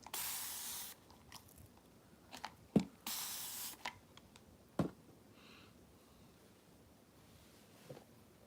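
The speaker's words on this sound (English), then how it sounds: "Need to spray a little bit more." A spray bottle mists water onto a watercolor painting in a few short, close hissing bursts, the longest at the start and another around three seconds in, with quiet pauses between them.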